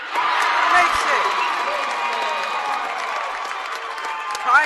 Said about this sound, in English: Tie game here as the crowd explodes.